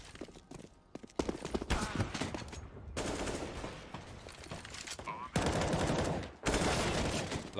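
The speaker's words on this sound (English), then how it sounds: "Lovely flick there, and then rifle support from Stewie now." Rapid bursts of rifle fire from a Counter-Strike match on the map Train, in a North American ECS Season 5 pro game, loud and dense, mixed with game effects and caster talk.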